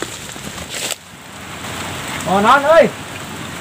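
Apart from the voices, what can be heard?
rain starting to fall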